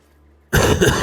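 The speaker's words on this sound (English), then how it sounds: "I'm gonna cough my head off." A single loud, close burst of coughing and throat clearing erupts abruptly after near silence and lasts about half a second.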